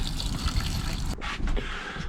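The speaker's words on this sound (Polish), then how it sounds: "Przydaje się też do uzupełniania wody do kibelka, żeby go dobrze wypłukać." Water pours and splashes steadily into a camper toilet bowl to flush it, a continuous close-up gush that changes tone briefly near the end.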